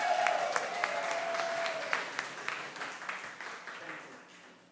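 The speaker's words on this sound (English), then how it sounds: "Round of applause, please." An audience at a community story night breaks into a round of applause, dense clapping near and loud at first, then thinning into scattered claps as it dies away.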